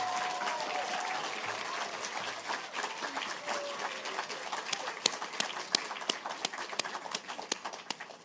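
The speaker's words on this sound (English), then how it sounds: "give a round of applause to this year's winner of the ILFDublin Award, Serena Malloy," Audience applause at the KPMG Children's Books Ireland Awards ceremony at ILFDublin for the award winner, a rising patter of many hands clapping that grows denser and sharper toward the end, with a voice speaking over the start.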